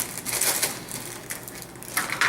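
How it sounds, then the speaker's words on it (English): Scissors snip steadily through thin material, making a crisp, close-up series of crunchy cuts of fairly even loudness with no talking. "I'm going to use scissors."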